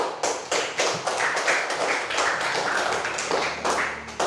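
A classroom of students clapping hands together, a rhythmic series of distinct, fairly even claps at a steady beat, close and moderately loud, with no voices.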